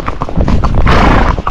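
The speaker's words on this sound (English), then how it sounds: "her gait will sound different on this road versus a pacey horse or a horse that just gaits" A Tennessee Walking Horse gaits on a road, its hooves striking in quick, loud, close clip-clop beats in an even rhythm.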